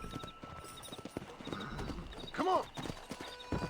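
Horses' hooves clip-clopping in the video game Red Dead Redemption, a steady close rhythm of hoof beats with a brief whinny, while someone talks and calls out over them.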